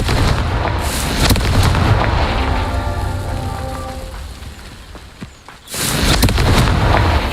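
Confringo explosion spell cast in the video game Hogwarts Legacy during a Merlin trial, a loud close blast with crackling debris that fades, followed by a second burst near the end.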